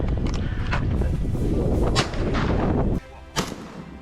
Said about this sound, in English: And when the wild boar herd bursts out, gunfire thunders,